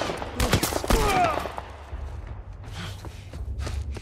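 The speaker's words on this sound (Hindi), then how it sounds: "ओपन फायर कर चुका हूं मैं" Gunfire from The Last of Us Part 1 played on PC: a dense burst of shots in the first second and a half, then scattered quieter thuds and impacts.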